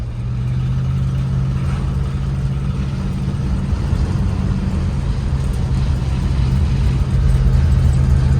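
A 1961 Plymouth Belvedere with a 318 V8 and an exhaust leak cruises with a loud, steady low exhaust drone that stays even throughout and has no voices over it.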